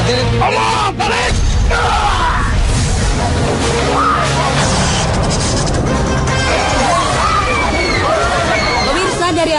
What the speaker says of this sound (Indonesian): dari arah penonton terdengar suara teriakan histeris wanita